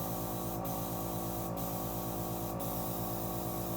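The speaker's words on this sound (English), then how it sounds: "you just want to make sure to spray clean between each color until your color's spraying clear" An airbrush sprays paint through clean between colors while repainting a Boba Fett helmet, giving a steady, even hiss throughout with faint periodic pulsing underneath.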